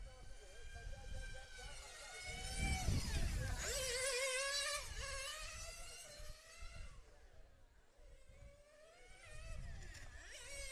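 A 1/8 scale nitro RC car engine screams around a race track, its high buzzing whine rising and falling as it accelerates and brakes through corners, heard from a distance as the only car running.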